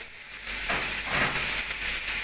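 Chopped broccoli, close to two kilos, tipped into a pan of sautéed carrots sets off a steady, close sizzle and hiss that swells after a quiet start and holds with no voices.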